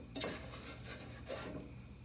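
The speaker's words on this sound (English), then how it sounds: "Still stirring." Homemade playdough being stirred in a pot, quiet scraping and rubbing strokes of a spoon against the pot, two louder sweeps over a soft continuous scrape.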